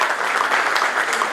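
An audience at a Rotary district training seminar in Khurja rises for a standing ovation. The applause is loud, dense and sustained, with no other sound over it.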